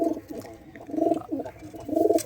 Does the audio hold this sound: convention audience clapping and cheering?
no